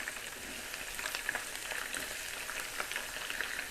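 Onions frying in hot oil for okra masala give a steady, close crackling sizzle that holds evenly throughout, with small pops scattered across it and no voices.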